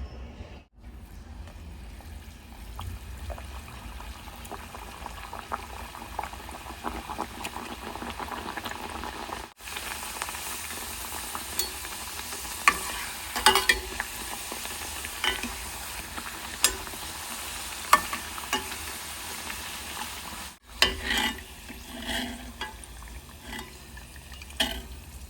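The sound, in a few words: frying sweet jaggery puris in oil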